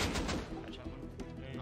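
Rapid gunfire and explosive bursts from a video game battle, loud and continuous with dense overlapping shots through the short moment.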